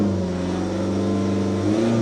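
A BMW 1 Series engine revving steadily at idle and mid revs while being diagnosed for a suspected faulty EGR valve, a close, continuous hum with a slight rise near the end and no talk.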